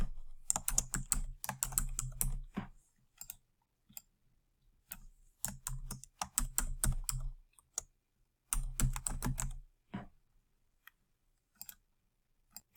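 Bursts of quick, crisp keystrokes on a computer keyboard, typing in several separate runs with short quiet gaps between them, close and fairly soft, with no voices.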